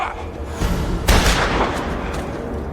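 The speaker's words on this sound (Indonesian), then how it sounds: "si pelukis menembak tepat ke kepala John sampai John tersungkur tewas" A film gunshot, a painter shooting a man in the head, lands as one loud, close blast with a short rumbling tail over a steady low background.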